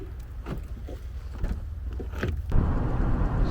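A car drives out past a hillside where controlled burns are under way in a North Carolina state park; a low, steady engine and road rumble runs throughout and grows louder and rougher near the end.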